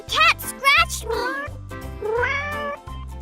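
A child imitates a cat with a series of high, rising and falling vocal meows, close and loud, over a steady low hum with brief gaps between calls.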